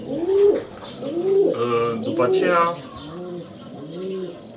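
Racing pigeons coo repeatedly in a loft, soft rhythmic throaty calls close by, with someone speaking briefly over them.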